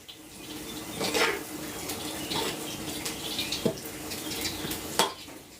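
Spicy eel being stir-fried dry in a pan, scattered scraping and clattering of a utensil against the pan over a steady hiss, with several sharp clinks standing out, no talking.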